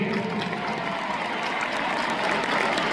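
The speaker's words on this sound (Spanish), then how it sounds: "Y pido un aplauso para Zamora también." A crowd at a red-carpet event applauds steadily for Zamora, a dense, even roar of clapping at moderate level that continues unbroken throughout.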